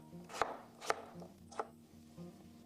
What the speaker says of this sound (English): I cut it into small pieces so it cooks faster.